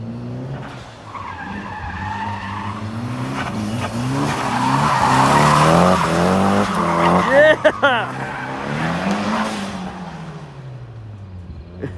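A turbo diesel 2500 truck drifts with loud tire squeal, its engine droning and revving while the tires screech in long wavering tones, close and continuous, with a sharp pop near the middle.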